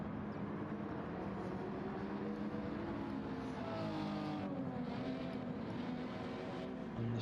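Race cars in Gran Turismo 7 run through the S-bends at Autopolis as a continuous blended engine drone, steady and fairly loud, with no talk over it.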